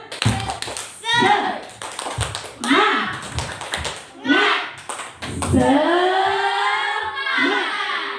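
A group of adults at a school positive-culture session performs the tepuk semangat clapping chant, with bursts of rhythmic handclaps in patterned groups alternating with chanted voices, close and lively.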